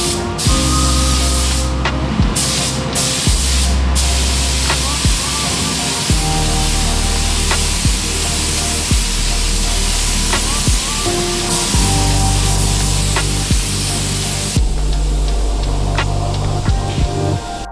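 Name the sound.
spraying sealer coat onto car body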